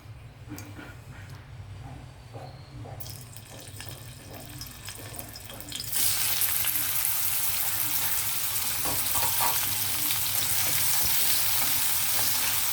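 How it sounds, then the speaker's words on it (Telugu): Dried shrimp are dropped into hot oil, and a moderate background hiss swells into a loud, continuous crackling sizzle that holds steadily to the end, with no talking. "అయితే ఆయిల్ హీట్ అయ్యాక ముందుగా మనము ఎండ్రాయిలు వేయించాలండి"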